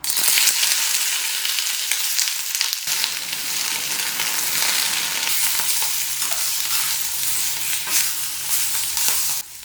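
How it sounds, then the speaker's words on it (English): Mangetout pods fry in a tablespoon of hot oil in a pan, a loud continuous sizzle with bright crackling spatter and occasional stirring scrapes, steady throughout. "In a pan with a tablespoon of oil, we add in a pack of mango tout"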